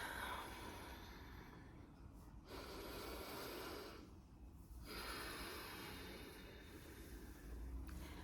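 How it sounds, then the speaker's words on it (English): A slow, deep breath drawn in close to the microphone, a long airy rush that eases off briefly a couple of times before continuing, with no talking. "Let's take a deep breath."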